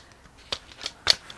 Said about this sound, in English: I'm going to tear it off.